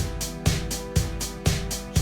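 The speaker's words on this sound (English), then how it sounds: "So now I have the Vermont drums instead." The Vermont drums loop in Soundtrap plays a steady beat, with punchy kicks and bright cymbal washes repeating about every half second, dense and continuous.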